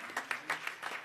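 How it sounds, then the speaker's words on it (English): Brief burst of hand clapping from a church congregation honouring its men on Men's Day at a Missionary Baptist Sunday worship service, a handful of sharp claps in quick uneven succession, fairly near. "Come on and give them a hand clap of appreciation."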